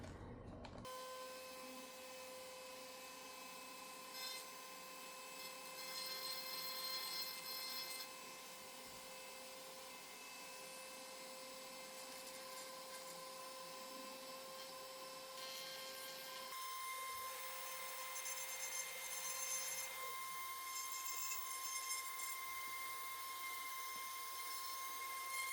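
A Dremel rotary tool smooths the edges of a scroll-saw cut-out of chunky wood, a steady high-pitched whine that shifts pitch partway through, heard close and alone.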